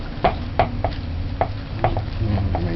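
Cake batter with butter being stirred and mixed in a bowl for toto cake, a series of soft irregular thuds and scrapes from the spoon against the bowl, close up.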